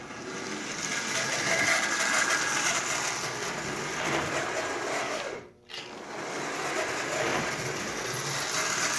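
A Marx Canadian Pacific toy train locomotive runs with a dry, unoiled motor and sparking wheels, making a steady, close whirring buzz that dips briefly midway and then picks up again.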